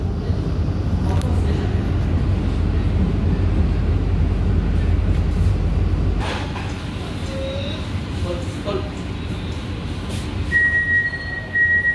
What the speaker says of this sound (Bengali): আমাদের ট্রেন প্রবেশ করছে খড়দহ রেলওয়ে স্টেশন